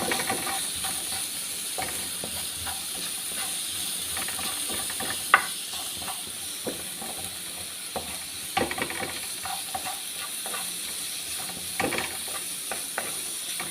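Chopped onion sizzling in a frying pan with pieces of chicken breast, a soft continuous hiss and crackle with scattered stirring clinks and scrapes, close up, no talking.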